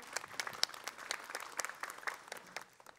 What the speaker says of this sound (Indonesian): Ustadz Maulana, mohon izin Pak Ustadz, tepuk tangan ya, Pak Ustadz Maulana dong.